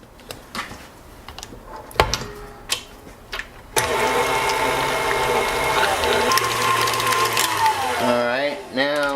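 Stand mixer at slow speed blending pan-fried onion dip with sour cream, a steady whirring motor with rattling beater running continuously after a few clicks and bumps, fairly close, with talk at the start.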